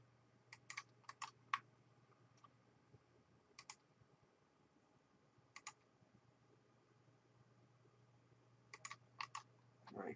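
Sparse computer keyboard typing while modeling a head with splines in 3D software: a few clustered key clicks, including backspace presses, separated by quiet gaps over a low steady hum.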